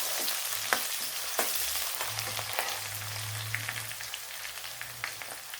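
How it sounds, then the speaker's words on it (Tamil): A large chopped onion fries in a pan for chicken varuval, giving a steady close sizzle with scattered crackles and pops and a few soft stirring scrapes, no talking. "இப்போ ஒரு வெங்காயம் சேர்த்துருக்கேன். பெரிய வெங்காயம் தான்."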